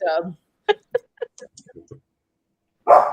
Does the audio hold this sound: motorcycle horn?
no